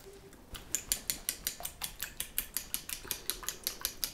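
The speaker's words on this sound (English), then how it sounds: "I'm gonna whisk that together" Buttermilk and egg being whisked together in a bowl, a quick regular run of metallic clinks and taps from the whisk hitting the sides, close and crisp, about four strokes per second.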